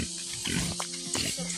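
A small pig of about 25 kilos, carried by motorbike, gives short, rough grunts and squeals in several bursts, close to the listener, mixed with a steady hum.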